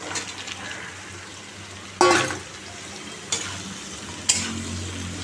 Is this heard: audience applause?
no